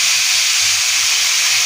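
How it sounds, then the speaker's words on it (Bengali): Cauliflower pieces fry in hot oil in a pan, giving a loud, unbroken sizzling hiss that holds steady from start to finish. "এদিকে বাকি রাজুদা আমাদের ফুলকপি ভাজছে"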